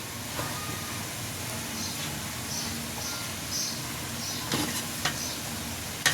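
Four kilograms of Malabar spinach greens with potatoes being stirred in a pan, a steady soft scraping and faint sizzle with a few louder clanks of the spatula near the end.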